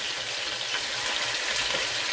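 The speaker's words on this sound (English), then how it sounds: "I'm gonna be throwing that in and I'm gonna be frying them up." Steady sizzling and crackling of food frying in hot oil, a continuous hiss with scattered small pops, close and moderately loud, no voices.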